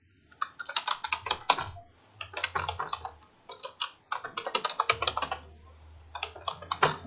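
Password being typed on a computer keyboard, close rapid bursts of key clicks in several quick runs separated by short pauses.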